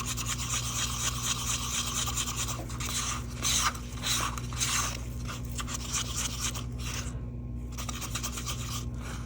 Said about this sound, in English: mix up some more blue because I want this around the edge